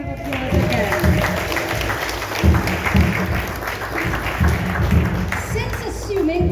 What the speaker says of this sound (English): let us give him a round of applause again